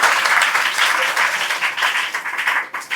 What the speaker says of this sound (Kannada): ಒಮ್ಮೆ ನಮಗೆ ಚಪ್ಪಾಳೆ ಹಾಕಿ